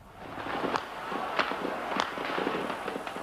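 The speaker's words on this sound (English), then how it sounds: "The noise of gunfire rose from all over the center of Peking." Gunfire crackles across the streets of central Beijing, scattered sharp cracks and pops heard faintly at a distance over a steady wash of street noise, with no clear talk.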